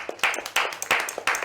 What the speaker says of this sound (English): Clap if you're on Twitter